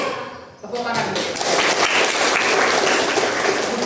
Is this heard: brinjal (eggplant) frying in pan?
no